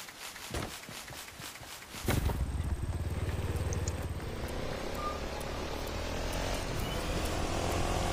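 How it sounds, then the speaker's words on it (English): Helicopter in Fortnite Mobile, a steady rotor chop and engine drone that starts abruptly and holds loud and close, after a few brief clicks and game sounds. "Helicopter."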